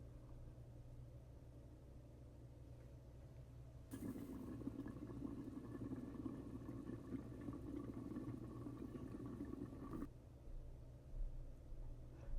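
Goat meat pepper soup simmers in a covered pot, a soft bubbling rumble that swells louder for several seconds in the middle before settling back to a low, steady boil.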